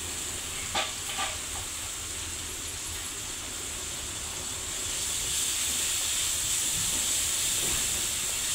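Food frying in a pan, a soft continuous hiss and sizzle with a few faint clicks, moderately quiet and close, growing slightly louder toward the end, no talk.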